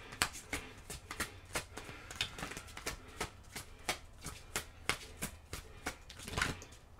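Tarot cards being shuffled by hand, a quick series of crisp riffling snaps and soft slaps in an even rhythm, close and fairly quiet with no talking.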